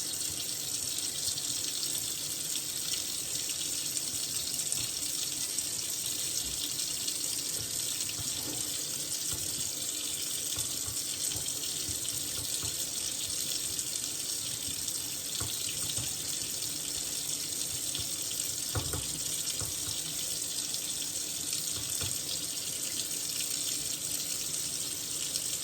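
Hot water runs from a sink tap in a kitchen where mozzarella curds are being prepared, a steady hissing stream that continues alone for the whole stretch at moderate level.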